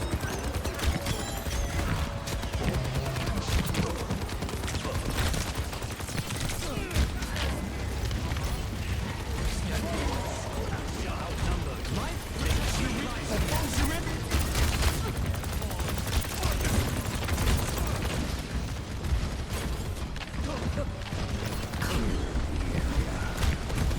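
Dense, constant video game gunfire crackles throughout a long stretch of battle, a busy wash of shots and mechanical clatter at a steady loud level with faint voices buried underneath.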